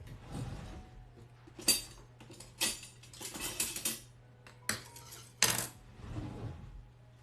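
A knife chopping through soft caramel for chocolate chip caramel cookies, several sharp separate knocks and clicks of the blade meeting the board, close up, with quiet gaps between strokes.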